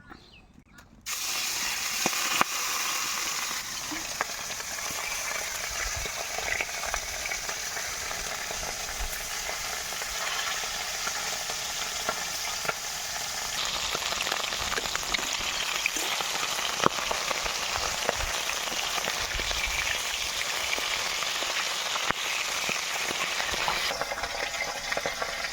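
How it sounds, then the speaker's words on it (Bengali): Fish seasoned with salt and turmeric hit hot oil and sizzle in a loud, continuous frying hiss that starts abruptly after a moment of quiet and carries on steadily, growing slightly fuller midway. "তেল গরম হয়ে গেছে, মাছগুলো দিয়ে দেব।"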